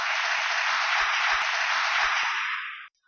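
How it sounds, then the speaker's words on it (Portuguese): A church congregation applauding loudly during a sermon, a dense sustained wash of clapping with a few sharper claps and thumps, fading out at the end. "Aplauda ao Senhor bem forte."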